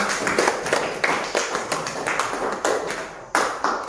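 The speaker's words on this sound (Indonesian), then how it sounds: "Jadi kita berikan tepuk tangan juga untuk kelompok 2." A small classroom group claps for a student team that has just presented, sparse uneven claps repeating every fraction of a second, close and fairly loud.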